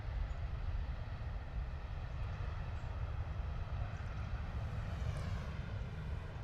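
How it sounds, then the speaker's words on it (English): An Airbus A320neo touching down and rolling out along the runway, a steady broad low roar of engines and rushing air holding at an even level throughout, with no voices. "Another quiet arrival there from the A320 Neo."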